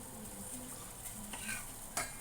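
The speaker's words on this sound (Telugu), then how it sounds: "ఇప్పుడు ఇందులో మనం ముందుగా ప్రిపేర్ చేసుకున్న రాగి పిండిని, మిశ్రమాన్ని వేసుకుందాము." Ragi flour mixture is poured into boiling water in a pot and stirred, with a soft bubbling hiss, faint scraping strokes and a sharp clink of a utensil near the end, quiet and close.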